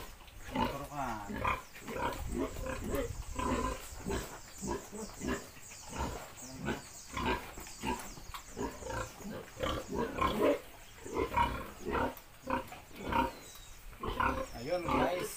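A Duroc gilt grunts repeatedly while being injected with Gonadin, loud and close, with a person talking over the pig throughout.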